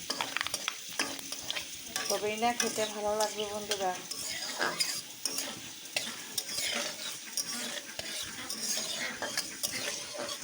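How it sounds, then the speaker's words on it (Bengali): Panch phoron spices frying in a pan for a dhenki shak recipe, a steady close sizzle with stirring and utensil scrapes running through, while someone talks over it. "এই দেখো দিয়ে দিলাম 5 ফোড়ন, একটু ভাজা ভাজা হবে,"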